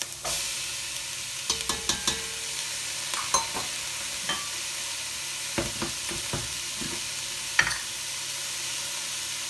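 Chickpeas being stirred into a big pot of red lentil and vegetable soup, with scattered scraping clinks of a spoon against the pot over a soft background hiss, no voices.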